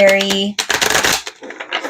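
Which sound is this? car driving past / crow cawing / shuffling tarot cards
shuffling tarot cards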